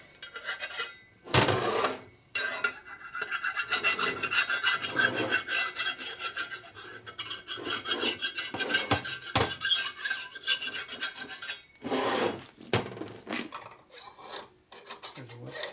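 A metal file rasps across the gasket surface of an S&S 113ci Evolution motorcycle engine in repeated scraping strokes, close and fairly loud, with short pauses between passes and no talking.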